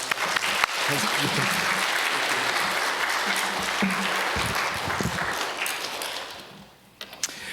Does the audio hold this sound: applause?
yes